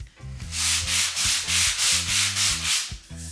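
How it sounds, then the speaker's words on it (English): Rhythmic sanding on a bamboo worktop with the grain, each stroke a loud rasping swish back and forth, about ten even strokes in quick succession, close up with no voices. "I'm sanding with the grain"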